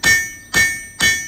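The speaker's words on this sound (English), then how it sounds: "I'm going to do an angled strike." A blacksmith's hammer strikes an anvil at an angle three times in an even rhythm, each blow a loud, close metallic clang with a ringing tail.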